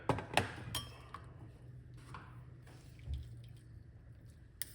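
Clove tea poured off from a glass vessel in a kitchen, a few sharp glass clinks up front followed by soft trickling and dripping liquid, close and fairly quiet with no talking.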